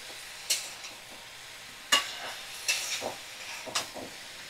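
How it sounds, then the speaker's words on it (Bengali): Pumpkin and Malabar spinach frying with onion in a pan, a soft background sizzle with a few sharp, isolated spatula scrapes and stirs, close and moderately quiet, no voices. "ভালো করে আমি 5 মিনিট এইভাবে নাড়াচাড়া করে ভেজে নেব।"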